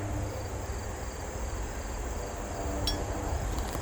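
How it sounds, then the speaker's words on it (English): Honeybees buzz inside a full, heavy beehive as it is opened, a dense, steady drone that holds even and close throughout with no voices. "There's so many bees in here."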